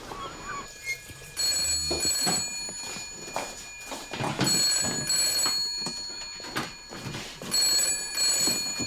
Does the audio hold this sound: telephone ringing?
yes